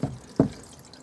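Two distinct close drips of engine oil fall from the drain of a Fiat 500 during an oil change, spaced about 0.4 seconds apart, each a short soft splat in an otherwise quiet garage.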